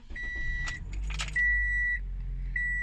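Toyota car being started: a jingle of keys and clicks, then the engine turns over and settles into a low steady idle, with a few electronic chimes from the dashboard sounding over it.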